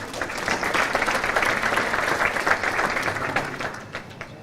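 Steady round of applause from a seated crowd at a bowling association adult awards banquet, filling the room evenly and moderately loud for several seconds before thinning near the end.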